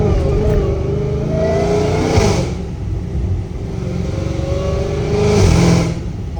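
A catless Dodge Challenger Hellcat Redeye, rated around 800 horsepower, revs hard twice out in the rain: loud, close blips that climb and fall back over a deep rumbling exhaust, with no one talking.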